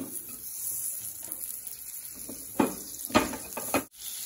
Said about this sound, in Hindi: पैन हमारा अच्छे से गर्म हो चुका है फ्रेंड्स इसमें मैं डालूंगी बटर